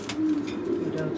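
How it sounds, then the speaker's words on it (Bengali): Pigeons in a small loft coo softly in low, rolling murmurs, a brief steady throaty sound at moderate distance with no speech. "এখানে কিছু কবুতর আছে দেখতে পাচ্ছেন।"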